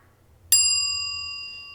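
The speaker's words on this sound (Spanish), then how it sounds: "Después de la campana." A single clear bell ding rings out once, bright and close, then fades slowly over more than a second in otherwise quiet surroundings.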